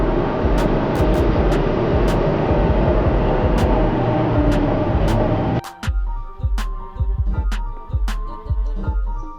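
Inside one of the newer, modern trains in Serbia, a loud, dense rolling rumble gives way to a quieter ride marked by sharp, rhythmic clicks and knocks.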